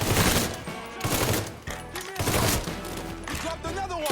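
Heavy shotgun blasts in the video game Mafia III boom loudly in quick succession over a chaotic combat scene, with brief shouted voices mixed in.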